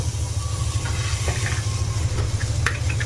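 Tomato pieces go into a cooking masala for egg pasta and are stirred, a steady close sizzle with a low rumble underneath and a few light scrapes of the spoon against the pan.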